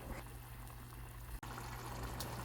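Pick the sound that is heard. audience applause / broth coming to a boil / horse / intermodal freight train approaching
broth coming to a boil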